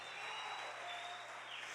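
A church congregation at a celebration service applauds and cheers, a dense, steady wash of clapping and crowd noise with no breaks.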